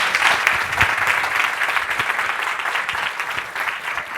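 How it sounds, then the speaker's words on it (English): A conference audience applauds a panel with sustained, dense clapping that stays full and even throughout, fading only slightly toward the end. "Please give them a great big round of applause."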